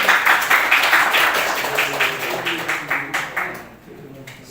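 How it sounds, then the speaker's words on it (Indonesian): A classroom group claps together during a religious-education lesson, a dense run of bright overlapping claps fading out over about four seconds. "Ayo kasih tepuk tangan dulu dong."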